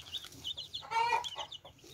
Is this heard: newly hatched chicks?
yes